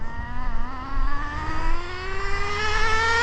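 Nitro-powered Traxxas Slash RC car engine buzzing at half throttle, a high whining note that climbs steadily in pitch with small surges, loud and unbroken, no talk.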